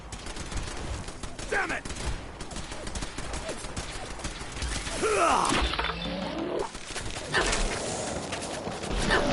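Bursts of gunfire and clattering impacts ring out in a Fallout 4 battle, with a voice shouting in frustration over the rapid shots and mechanical noises.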